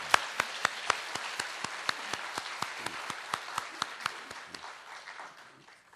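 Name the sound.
applause welcoming church elders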